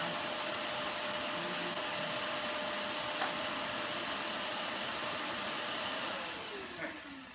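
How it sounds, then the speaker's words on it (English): A shop vacuum, switched on through a smart power strip beside a CNC machine, roars with a steady loud whine throughout, then begins to wind down near the end. "I've got the IoT power strip in there, which turns on my shop vac."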